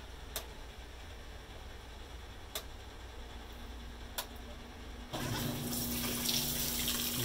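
A GE top-load washing machine drains water through its drain hose, a few sharp ticks over a steady low hum, then a loud rushing gush of water that starts abruptly and continues to the end.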